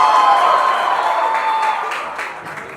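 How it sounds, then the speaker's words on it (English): Audience cheering and applause in a college auditorium after a live musical performance, loud at first and gradually fading, with a sustained tone running through the crowd noise. "Can we all have a loud cheer from the audience"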